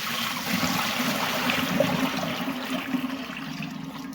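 Dirty water squeezed from aquarium sponge filters being poured out, a steady rushing trickle throughout, fairly close and continuous with no talk.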